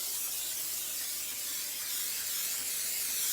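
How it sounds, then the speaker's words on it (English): A steady, continuous hiss of cooking spray coating a rack, close and fairly quiet, with no pauses or talking. "And I'm going to spray the rack"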